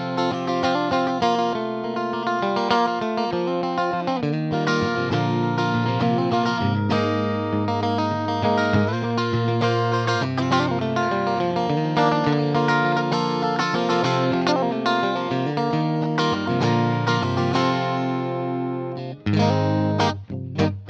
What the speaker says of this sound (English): hear what the position between the bridge pickup and the middle sounds like